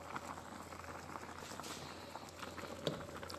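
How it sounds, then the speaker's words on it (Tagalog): Fish mango soup bubbles in a covered pot, giving a soft, steady patter of simmering with a faint clink near the end. "Ayan guys, kumukulo na."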